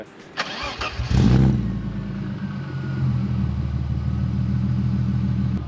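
A BMW E36 or E46 engine with a stainless 6-2-1 equal-length exhaust manifold fires up with a brief rising roar, then settles into a steady, close, low rumbling burble with a throbbing, uneven pulse.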